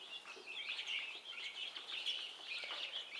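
Guinea fowl keets with their mother hen: a dense stream of faint, high-pitched chirps and peeps overlapping continuously, fairly quiet and close, no talk.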